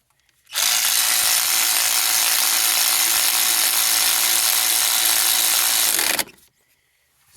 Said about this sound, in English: So far, I love this Hyper Tough cordless ratchet.